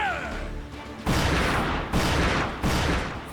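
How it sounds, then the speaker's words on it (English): Three heavy ship-cannon blasts from Yakuza: Like a Dragon Pirate Yakuza in Hawaii, each a loud booming crash with a rumbling tail, spaced under a second apart after a brief musical lead-in. "Those are supposed to be laser cannons, not cannons."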